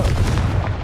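A Confringo explosive spell goes off in Hogwarts Legacy as a loud, close, heavy boom with a broad rumbling burst. It lasts under a second.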